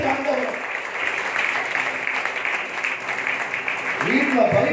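A church congregation claps during a Sunday service, a dense, steady wash of applause filling the room for several seconds, with a voice rising near the end.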